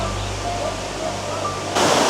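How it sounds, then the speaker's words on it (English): Water pours steadily down a small waterfall built by damming a little creek near a restaurant in Puerto Vallarta, a constant close rushing wash that swells louder near the end. "Nice listening to all the water rolling down there."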